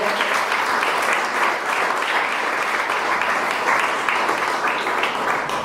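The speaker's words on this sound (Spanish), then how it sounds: "Den una ofrenda de palmas al Señor." Dense, steady applause from a church congregation offered as praise, loud and sustained throughout with no talking over it.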